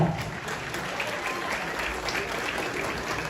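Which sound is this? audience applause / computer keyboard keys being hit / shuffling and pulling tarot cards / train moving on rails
audience applause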